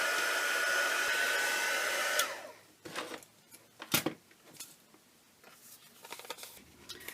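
A hair dryer blows on wet paint on an art journal page, a loud steady roar that cuts off after about two seconds, followed by quiet handling taps and rustles.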